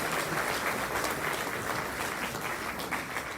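Audience applause at an athletics hall of fame induction ceremony, a dense, steady clapping from a large crowd that holds at full strength throughout with no voices over it.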